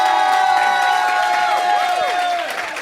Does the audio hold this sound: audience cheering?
yes